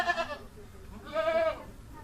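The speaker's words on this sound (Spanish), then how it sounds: "la cabra bala y suena así." A goat bleats twice: a short nasal cry followed a second later by a longer, wavering bleat, both fairly faint against a soft background hiss.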